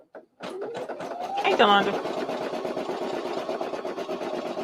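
An embroidery machine runs a stitch around a denim zipper pouch in the hoop, a steady rapid mechanical chatter that continues after a rising whir, with a short spoken greeting at the start.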